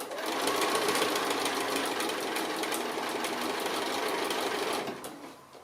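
Sewing machine running steadily as it stitches a 2½-inch strip envelope pouch under a quarter-inch banana foot, a continuous close whirring for about five seconds before tapering off near the end, with no talk.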